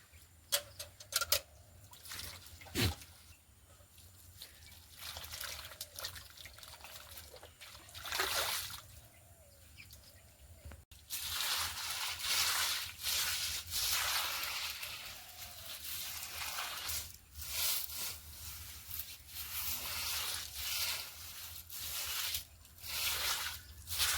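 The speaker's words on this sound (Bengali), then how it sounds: "মা ভালো করে একটু গোবর জল দিয়ে গোবর দিয়ে দিচ্ছে" A floor is smeared with cow dung and water by hand, making intermittent wet squishes, slaps and sloshes close by that grow busier and more continuous partway through, with scattered knocks and scraping in between.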